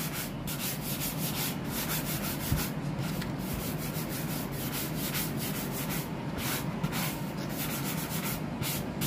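Steady abrasive sanding of a worn leather steering wheel with light, moderate pressure, a continuous close rubbing hiss with a soft back-and-forth texture and no talk.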